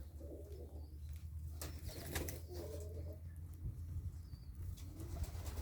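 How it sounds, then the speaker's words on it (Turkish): Cooing of boğma pigeons, a prized fancy breed kept with newly hatched chicks, comes as soft low murmurs over steady background hum, with a few brief wing flaps and faint chirps mixed in. "boğmalar bildiğiniz kadarıyla çok Kıymetli kuşlar"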